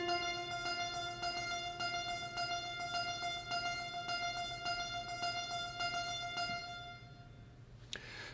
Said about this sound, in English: This one is called Cedar Plucked Piano.